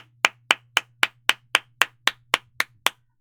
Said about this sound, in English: I need to stop clapping so hard